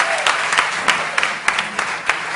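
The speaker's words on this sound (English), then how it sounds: "let's give the geniuses of 6A a very big round of applause" A crowd claps for a school class at a Jamaican school play, a dense round of applause with several sharp, close individual claps popping out in an uneven rhythm.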